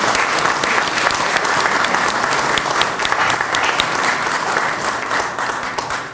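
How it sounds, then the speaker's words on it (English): An audience at an Algeria economic and cultural week event gives steady, dense applause honoring the US ambassador, a loud continuous wash of many hands that holds without a break and thins slightly near the end. "Let's give him a round of applause."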